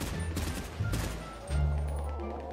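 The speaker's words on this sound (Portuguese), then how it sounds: "Tiro, corre." Gunfire on a GTA RP zombie survival server (FiveZ): a few sharp shot bursts crack over a constant low rumble of game ambience, one near the start and another heavier burst midway.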